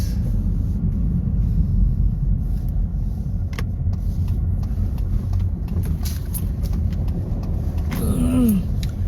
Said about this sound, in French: Ah, la voiture passe.